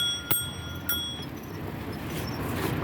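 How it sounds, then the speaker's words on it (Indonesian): A twist-type handlebar bell on a rental bicycle in Chiang Mai rings twice in quick succession near the start, bright short dings over steady street and traffic noise. "Ini di sebelah kiri putar buat bel."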